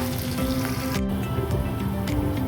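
Onions and chillies sizzle in a pan as they are stirred toward light brown, a steady close frying hiss with soft scraping and a brief clink near the middle, no talking.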